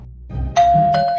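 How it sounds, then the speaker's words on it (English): A cartoon doorbell rings with a bright two-tone ding-dong chime after a soft shuffle, the second tone ringing out clearly and sustaining to the end, loud and alone. "Let's ring the doorbell."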